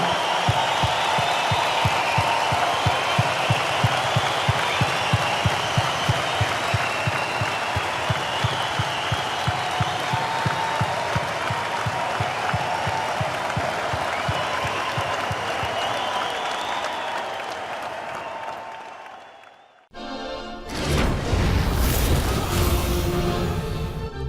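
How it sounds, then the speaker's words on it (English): Studio audience applause in tribute to Craig on an NBA daily talk show: a long, steady roar of clapping from a crowd with faint rhythmic thumps beneath, ending abruptly before a loud, different segment cuts in. "I'd like all of you to join me in an applause for a great man and a life well lived"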